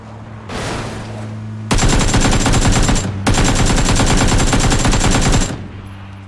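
Automatic gunfire sprayed in PUBG, a first-person multiplayer shooter, in two long loud rapid bursts separated by a brief gap, alone without talk.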